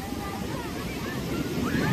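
Steady broadband wash of sea surf on a Konkan beach, constant and fairly close, with wind buffeting the microphone and faint voices in the background.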